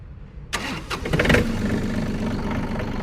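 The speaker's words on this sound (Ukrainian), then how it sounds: "Трактор також заводиться з півоберту." A Yanmar Japanese mini tractor engine cranks briefly and catches, then settles into a steady, close idle rumble.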